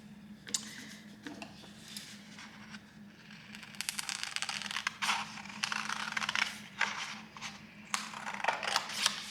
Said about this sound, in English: So what I'm going to do now is I'm going to cut them out.